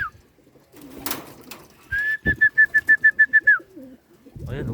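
Pigeons in a loft just back from a training flight, with a bird giving a clear run of about ten rapid, evenly spaced calls, surrounded by fainter rustling and soft low cooing.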